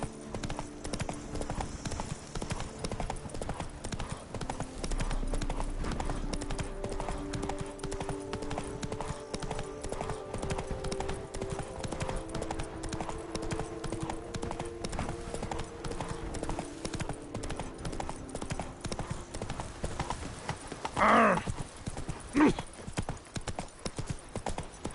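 Roach the horse gallops in The Witcher 3, hooves beating a fast, steady clip-clop for the whole stretch under music, with a brief louder burst near the end.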